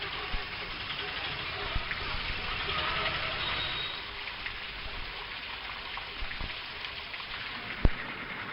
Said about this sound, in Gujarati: ધીમી ધારે વરસાદની શરૂઆત થઈ છે